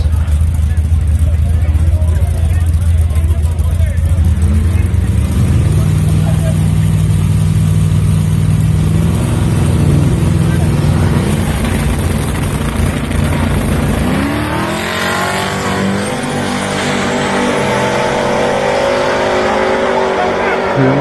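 A Chevy donk on 34-inch rims, tuned to 600 horsepower, idles loudly close by and then revs up in rising surges. A crowd murmurs in the background.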